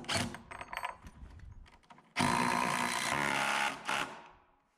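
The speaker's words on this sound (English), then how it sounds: "this little impact does a good job of holding that down" A small impact driver drives fasteners through a wooden wall bottom plate into concrete in a pole barn house build. A loud, steady hammering buzz runs about two seconds up close, after softer rattling handling noises.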